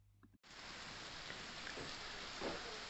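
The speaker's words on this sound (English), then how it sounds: "so pouring with rain, miserable" Heavy rain pours steadily outside, a dense, even hiss that starts abruptly after a short quiet moment and continues at a constant level with no one speaking.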